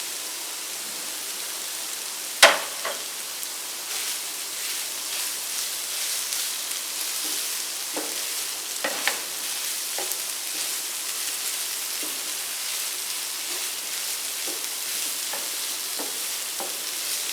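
Chicken liver and heart fry on a tawa with a steady soft sizzle while a spoon stirs them, giving occasional scrapes and sharp clinks against the pan. There is no talking.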